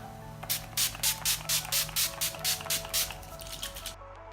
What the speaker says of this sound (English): to finish this look off, I'm just going to be using the Urban Decay All Nighter Setting Spray